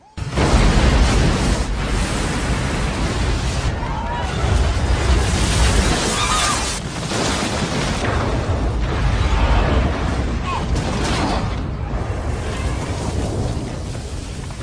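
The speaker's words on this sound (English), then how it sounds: "the ship separating is not only a cool scene, but it also leads to one hell of an awesome crash" Starship crash effect from the film Star Trek Generations (1994): a long, loud, dense roar of rumbling explosion and rushing debris, swelling in waves across about fifteen seconds with deep low-end weight throughout.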